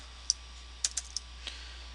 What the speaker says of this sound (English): this keyboard is not made for coding